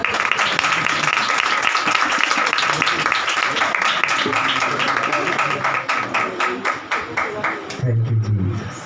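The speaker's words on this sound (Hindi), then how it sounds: "तालियां बजाओ" Worshippers at a Palm Sunday church service keep up loud group clapping that turns into more rhythmic, distinct claps midway, with a voice breaking in near the end.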